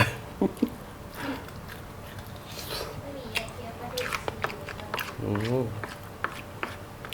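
Someone bites and crunches mackerel bones while eating grilled mackerel with chili paste: scattered crisp cracks and soft chewing sounds, close but fairly quiet, with someone talking in between.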